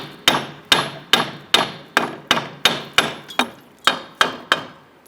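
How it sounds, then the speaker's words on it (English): Twelve sharp, evenly spaced hammer taps strike a front strut shock unit on a 1994-2004 Ford Mustang. The blows are loud and close, with no talk. "go ahead and tap on the shock unit"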